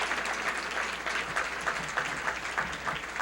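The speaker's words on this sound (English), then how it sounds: "let's give them all a round of applause for their service" Audience applause for school board members at a State of the County address: steady, dense clapping from a sizable crowd, sustained and even throughout without voices.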